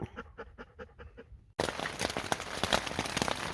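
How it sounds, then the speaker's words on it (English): Hail drums on a tent during a thunderstorm, a sudden dense rattling roar of countless small impacts that starts abruptly and stays loud and close, after a stretch of a dog's rapid rhythmic panting. "Sounds like it's hailing, Clovis."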